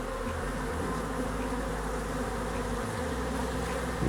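Honeybees crowd a hive entrance carrying full loads of bright yellow and orange pollen, making a dense, continuous close buzzing drone with no voices.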